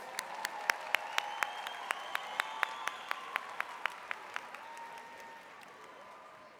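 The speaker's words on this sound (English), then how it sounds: "Let's give these young people a great round of applause." A graduation audience at the Jonesboro High School Class of 2019 ceremony applauds, a broad wash of clapping led by a steady run of sharp, evenly spaced claps that slowly thin and fade toward the end.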